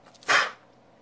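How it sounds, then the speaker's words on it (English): One sharp human sneeze, close and fairly loud, a short burst lasting about a quarter second over faint background noise. "there I go sneezing again"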